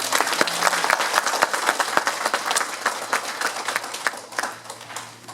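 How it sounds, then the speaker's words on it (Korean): A lecture audience in Houston claps in a moderately sized crowd, with distinct individual hand claps standing out over a steady applause bed and a faint constant hum beneath. "동의하시면 박수 한번 쳐주시죠."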